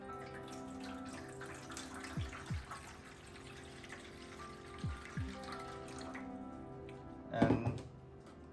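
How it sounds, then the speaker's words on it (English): Water being poured into a large baking tray for a custard water bath, a soft continuous trickle and splash with faint clinks, fairly quiet, in a home kitchen. "We'll pour the water in a big tray."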